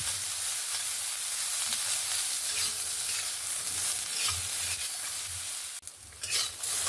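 Bitter gourd and eggplant fry in a pan for a spicy fish chorchori, a loud, steady, close hissing sizzle with light stirring scrapes, dipping briefly near the end before picking up again.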